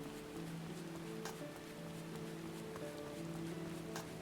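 Steady, faint rain falls in Final Fantasy XIV, a soft continuous patter with a few sharper drops and a low background tone, no voices.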